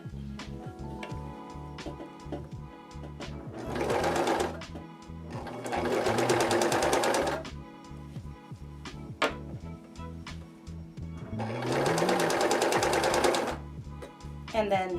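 A sewing machine stitches a child's fabric face mask in several fast whirring bursts, each running two to three seconds with short pauses between, close and clear, with a few quiet mechanical clicks in the gaps.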